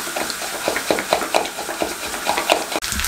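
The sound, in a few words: mixing egg batter with chillies, coriander and flour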